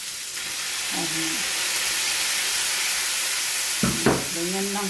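Meat and tomatoes for Ilocano pakbet fry in a pan, a steady loud sizzle broken by a few scraping stirs, with no voices.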